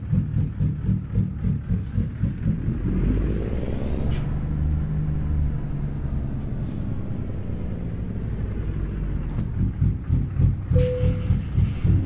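Truck engines from a trucking video game run steadily with a low, throbbing rumble, rhythmic pulsing and occasional hissing air-brake bursts, no talk.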